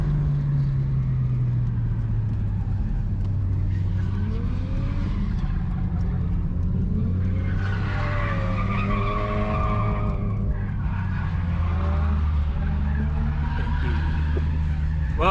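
Race car tyres skidding and smoking at the end of a run at a track event, a sustained loud screech with shifting engine drone throughout, rising and falling tones as the car slides, close and continuous.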